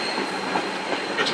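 Coach number 74, a 1924 heavyweight passenger coach about 80 feet long and 80 tons on the South Simcoe Railway, rolls along the rails with a continuous rumbling roar and faint wheel squeal, heard from inside.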